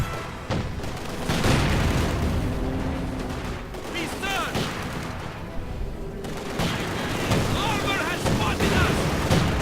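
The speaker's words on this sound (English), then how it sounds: "Mortar rounds flying in from above" Mortar rounds landing in a Company of Heroes 2 match, heavy booms and rumbling blasts with whistling shells and scattered gunfire, a commentator talking over the battle.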